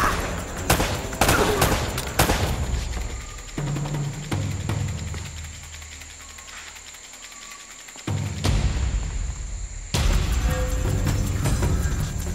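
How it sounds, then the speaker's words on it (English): Gunfire in the game Uncharted: Drake's Fortune, dense bursts of rapid shots crackling and booming close by, broken by a few quieter gaps and then resuming loudly, with no talking. "You always seem to be getting shot at. They're shooting at you too, you know."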